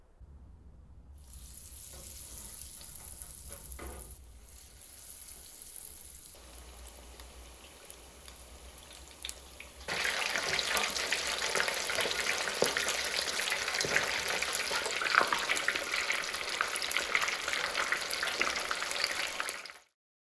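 Scotch eggs sizzling in hot oil, a steady crackling fry that grows louder and denser about halfway through, with no voices over it.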